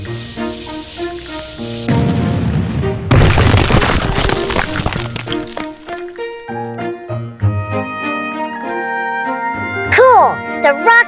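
Explosions blasting leftover stones out of a tunnel in a children's construction-vehicle cartoon: booming bursts and crumbling debris rise over a cheerful musical backing with bright jingles, and a voice talks part of the way through.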